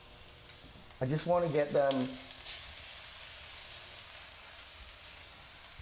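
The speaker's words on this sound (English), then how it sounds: "we're gonna get a little bit of a sizzle here" A quiet, steady sizzle of food frying in hot oil runs throughout, with a person speaking briefly over it near the start.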